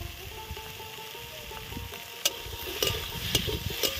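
Ridge gourd, potato and green chilies frying in a pan, a low steady sizzle joined midway by several sharp scraping and clinking spatula strokes against the metal, close and without talk.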